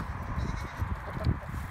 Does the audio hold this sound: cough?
no